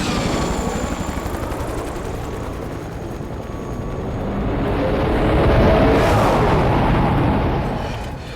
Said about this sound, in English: We need to set this chopper down